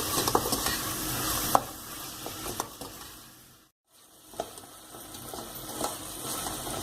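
Tomato and spring onion are stirred in an oily cooking pan, scraping strokes over a crackling sizzle, with a brief silent gap midway before stirring and sizzling resume.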